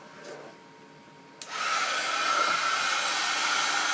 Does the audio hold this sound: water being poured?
no